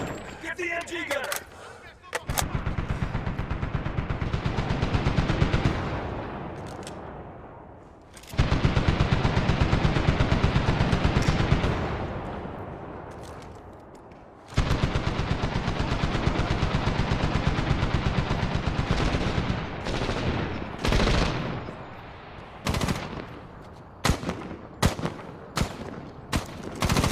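Sustained bursts of automatic machine gun fire from a Navy SEAL battle in Afghanistan in a Medal of Honor animation, loud and close, with long rattling volleys broken by short gaps and scattered single shots near the end.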